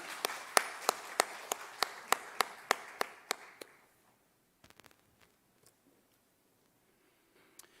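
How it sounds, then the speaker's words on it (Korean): Applause during a Wednesday church prayer service: a dozen or so sharp, evenly spaced claps for about three and a half seconds, then silence with a few faint scattered taps. "격려의 박수 하겠습니다"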